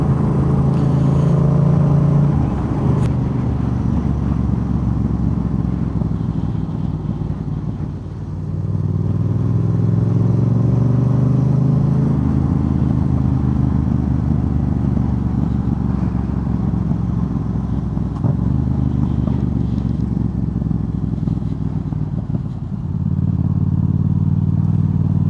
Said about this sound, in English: This exhaust is loud enough to wake the dead in that graveyard